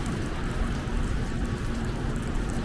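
Heavy rain mixed with snow falling on a downtown city street, a steady, loud broadband hiss of precipitation close to the microphone, continuous throughout.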